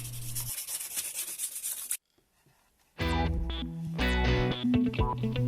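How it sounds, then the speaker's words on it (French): Plexiglass surface hand-sanded before gluing gives about two seconds of close, rough scraping strokes, then a brief silence and music taking over. "Je ponce la surface du plexi pour que la colle adhère mieux"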